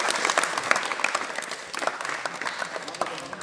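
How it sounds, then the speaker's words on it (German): Short burst of applause from a group of people clapping, a dense steady patter of hands lasting a few seconds with some voices mixed in. "Bitte kurzer Applaus, einmal klatschen."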